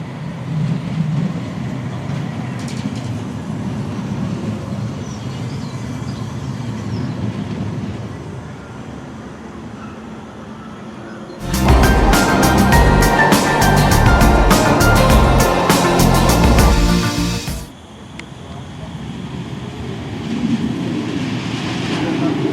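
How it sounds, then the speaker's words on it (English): A Manchester Metrolink tram on the Bury Line rumbles loudly and close for several seconds in the middle, with a dense mechanical roar, after a quieter stretch of background noise, then fades back to ambient sound. "we're getting the tram now to get to that next tram stop"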